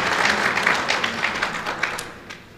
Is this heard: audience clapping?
yes